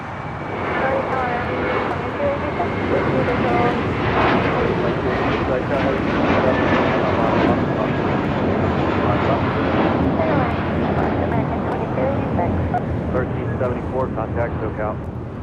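An airliner takes off at LAX, a loud, continuous roaring jet engine with wind buffeting, while air traffic control radio talk runs underneath.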